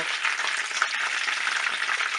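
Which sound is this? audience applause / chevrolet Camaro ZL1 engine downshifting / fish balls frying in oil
fish balls frying in oil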